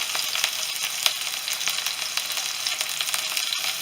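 Chopped garlic and green chillies frying in hot oil give a steady close sizzle with scattered crackles and spits, heard alone without voices.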